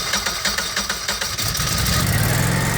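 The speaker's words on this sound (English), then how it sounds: "Now the generator is going to start and run for about 10 minutes" A Generac standby whole-home generator engine cranks and catches, its pulsing start giving way to a loud, steady close-range idle.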